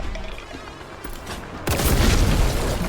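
Grenade explosions in the shooter game Warhammer 40K Boltgun erupt suddenly after a quieter stretch, a loud, dense burst of booming blasts that rumbles on to the end.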